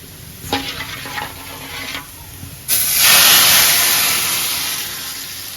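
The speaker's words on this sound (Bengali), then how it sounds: "পেঁয়াজ রসুন টালা হয়ে গেছে আমি ডাল দিয়ে সাজিয়ে দেবো" Dal poured into a pan of fried onion and garlic in a village kitchen bursts into a loud, sustained steaming sizzle that slowly fades, after a few lighter clinks and stirs.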